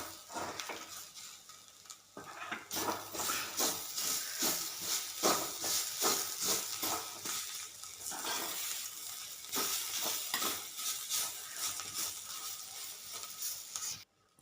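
Shredded cabbage poriyal being sautéed with salt in a pan, a steady sizzle with frequent scraping and stirring strokes, close and continuous, briefly quieter at the start before the cooking noise swells and holds.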